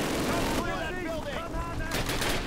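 Gunfire in the video game Call of Duty, rapid bursts of shots at the start and end of the passage, with in-game voices and effects in between, loud and dense throughout.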